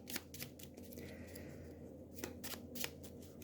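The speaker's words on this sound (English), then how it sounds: "I'll give it a shuffle and a cut." An Eldritch Horror board game artifact card deck is riffled and shuffled, giving several quick bursts of crisp papery flicking close by, with softer card handling between them.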